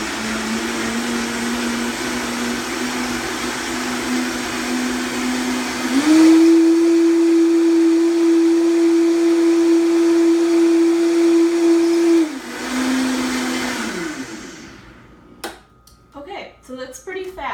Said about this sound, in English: So put the top on, put it on the Vitamix.